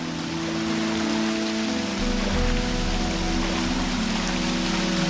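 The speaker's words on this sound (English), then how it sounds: "Oh, look at the waterfall." Steady rushing water of a waterfall in the video game Gothic 2, a continuous broadband wash with low tonal game ambience underneath, constant and fairly loud with no talk.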